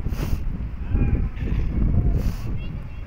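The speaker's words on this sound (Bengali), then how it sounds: "তো উপরে যেহেতু হাওয়া দিচ্ছিল সেজন্য কথা বলতে একটু অসুবিধাই হচ্ছিল" Strong, gusty wind at high altitude between Sandakphu and Lepchajagat roars and buffets the microphone continuously, a low rumbling rush that swells and eases over a few seconds.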